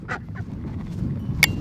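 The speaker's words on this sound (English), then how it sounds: "Ducks are very loud, so they're kind of like geese." Ducks quacking at a homestead brooder, a few short nasal calls spaced irregularly over low background noise, with one sharper, louder call near the end.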